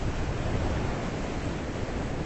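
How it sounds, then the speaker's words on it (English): Ocean waves crashing against the rocks of a jetty at Ponce Inlet, Florida, a steady loud wash of surf with no pause or voices across the short stretch. "We were watching the waves crashing against the rocks here on the jetty."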